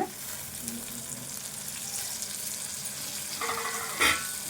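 Curry leaves and coriander frying in hot oil for tomato rasam, a steady close sizzle throughout with a brief louder crackle near the end.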